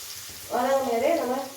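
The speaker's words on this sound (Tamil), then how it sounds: "வெள்ளைப்பூடி சேர்த்து சும்மா ஒரு நிமிஷம் வதக்கினா போதும்" Garlic and onion sautéing in a pan for a Tamil tomato thokku, a soft sizzle that starts suddenly partway through and holds steady and close, with no talk over it.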